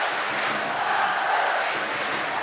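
Ice hockey crowd roaring steadily at a Nottingham Panthers vs Sheffield Steelers match, a broad, sustained wash of many voices that stays loud throughout.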